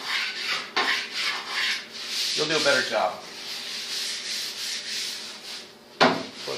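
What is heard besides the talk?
sanding base coat with sandpaper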